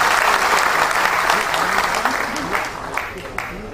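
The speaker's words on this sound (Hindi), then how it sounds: "तालियां बजाकर आप सभी एक दूसरे का स्वागत करें।" Assembly hall audience at a Yuva Rajputana Sangathan gathering applauding, dense loud clapping that fades slightly toward the end, with voices murmuring underneath.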